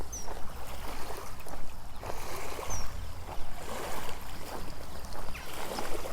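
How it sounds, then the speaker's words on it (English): Gentle waves lap and wash steadily against the shore, a soft continuous rush with occasional swells, no talking. "Oh, I love the sound of waves."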